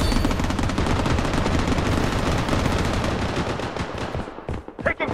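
Rapid automatic gunfire in the shooter game Blood Strike, a dense burst of fast close shots that thins into a few sharp separate cracks near the end, with no talk over it.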